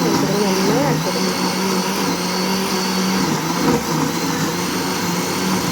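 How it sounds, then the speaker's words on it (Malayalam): A mixer grinder whirs steadily, grinding a masala with coriander leaves as a marinade for grilled chicken, a continuous motor drone running close and loud throughout. "അങ്ങനെ ആ മസാലയൊക്കെ അരച്ചു"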